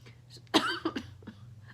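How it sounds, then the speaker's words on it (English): A single short, close cough, sharp and throaty, heard alone against faint background hum. "I'm getting a cough."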